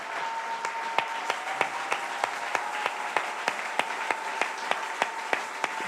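A church congregation applauds God in steady rhythmic clapping, with sharp regular claps over a dense crowd wash and a faint voice beneath.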